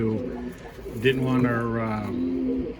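A small female pigeon coos in a loft, low throaty rolling coos repeating close by, with a voice talking over them.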